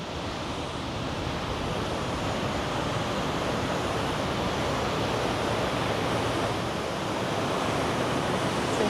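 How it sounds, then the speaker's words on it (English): Rushing water pours over the Merrickville Dam in Merrickville, Ontario, a loud, constant roar of churning flow with wind buffeting the microphone, steady and unbroken with no voices. "the next interesting thing to see in front of me is the Merrickville Dam"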